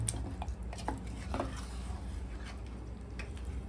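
Masala is stirred into mutton in a five-litre pressure cooker pot, giving soft, wet scraping and squishing with a few light clinks of the utensil against metal, close and fairly quiet, with no talk.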